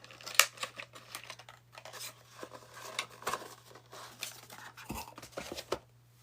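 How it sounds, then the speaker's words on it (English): Scissors snip and cut through smart garden packaging in a quiet room, a series of short, sharp crisp cuts and crinkles spaced irregularly, close and fairly faint, with no talking. "I've actually never used scissors like this before."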